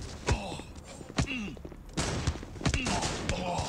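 Shotgun blasts and machine gun fire in the mobile shooter Guns of Boom, heard as several sharp, loud gunshots spaced a second or so apart, with someone talking over the action.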